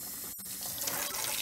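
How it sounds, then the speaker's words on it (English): Warm water runs steadily from a tap into a sink while tile cleaning solution is prepared, with one brief break in the flow near the start. "really, really warm water."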